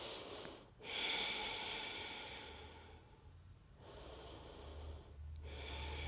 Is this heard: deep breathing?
yes